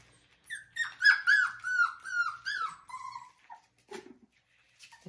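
An Australian Shepherd puppy whines in a quick series of high, falling cries, close and fairly loud, trailing off into a few faint sounds.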